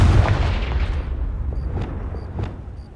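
Confringo blasting spell going off in Hogwarts Legacy, a heavy close booming explosion that fades into a rumbling tail with a few smaller crackling bursts behind it, no talking.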